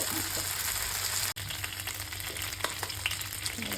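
Pad thai with tofu, dried shrimp and peanuts stir-fries in a pan with a constant close sizzle and light clatter of stirring, one brief dropout, no talking.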